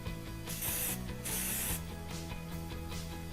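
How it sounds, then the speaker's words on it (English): Two short hissing bursts of spray adhesive from a shaken aerosol can mist onto glitter heat transfer vinyl for an embroidered trucker cap, faint and close, followed by soft rubbing and clicking handling noises. "we're going to shake our spray and just give a light spray over here"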